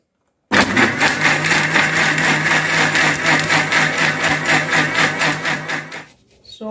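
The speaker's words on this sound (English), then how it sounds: "I'll blend this very smooth." A heavy-duty blender grinds ehuru, crayfish and pepper soup spices with water, a loud steady motor whine with a churning rattle that starts abruptly and runs for about five and a half seconds before stopping.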